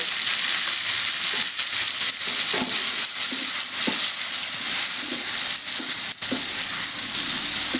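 Tomato pieces with salt fry in a pan for a roti chutney, producing a loud, dense sizzle close by, broken by scattered scraping stir strokes and light crackles.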